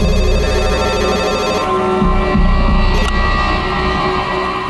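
A mobile phone rings steadily on a charger indoors, a continuous dense electronic ringtone playing loud and close throughout, with no pause in the tone.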